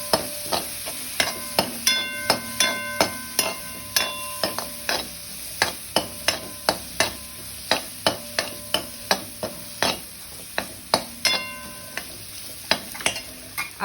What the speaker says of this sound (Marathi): त्यातच थोडी हळद आणि चांगलं परतून घ्यायचं